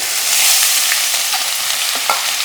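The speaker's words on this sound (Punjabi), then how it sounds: "ਹੁਣ ਸਭ ਤੋਂ ਪਹਿਲਾਂ ਆਪਾਂ ਇਹਦੇ ਵਿੱਚ ਅਦਰਕ ਪਾਵਾਂਗੇ" Ginger sizzling in smoking-hot oil in a wok while cooking a Punjabi winter pickle, a steady bright crackling hiss with occasional small pops, close and alone.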